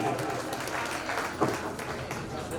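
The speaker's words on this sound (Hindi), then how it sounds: "आप सभी बधाई में जोरदार तालियों के साथ में" Crowd at a Hindu temple gathering during Dev Diwali applauding in congratulation, quiet and somewhat distant clapping mixed with murmuring voices and a brief louder thump midway.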